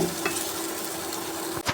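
Sliced okra fries on a hot tava over an induction stove, giving a steady, bright sizzle throughout. A spatula stirs it with a scrape near the end.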